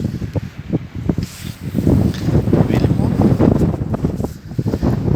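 Strong gusty wind buffets a microphone outdoors among lemon trees, a steady roaring rumble with rustling that stays loud throughout, while a person talks over it.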